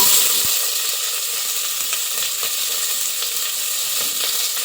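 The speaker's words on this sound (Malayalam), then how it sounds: "ആ ഗ്രാമ്പൂ പട്ടയൊക്കെ ഒന്ന് ചൂടായി വരുമ്പോൾ അത്യാവശ്യം വലുപ്പമുള്ള ഒരു നാല് സവാള ഇതേപോലെ നീളത്തിൽ അരിഞ്ഞത് ചേർത്ത് കൊടുക്കാം" Sliced onions hit hot oil with cloves, cinnamon and cardamom for egg biryani, giving a steady, loud, close sizzle and hiss throughout, with a few faint clinks and no voices.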